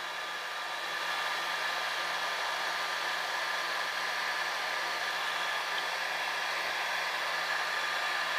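A heat gun warms hardline tubing for bending on a watercooled computer build, putting out a steady, loud airy blowing hiss that switches on after a moment and holds constant.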